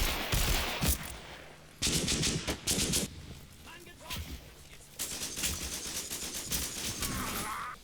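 Bursts of small-arms and machine-gun fire from the WWII tactics game Combat Mission Final Blitzkrieg rattle in loud, dense volleys, broken by brief lulls before sustained firing resumes.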